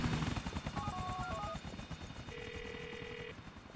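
A helicopter in GTA IV drones with a steady, rapid rotor chop throughout, while short electronic phone tones ring over it.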